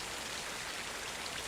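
Steady, even rain pours down in a scene from the TV drama Shōgun, a dense continuous wash of falling water heard alone at low volume with no voices.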